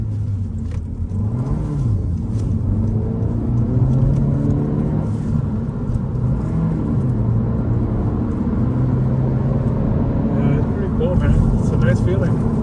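A Honda Civic Si with a six-speed manual gearbox drives through city streets, its engine humming and rising in pitch as it climbs through the gears. Its pitch dips with each shift, and someone talks over it throughout.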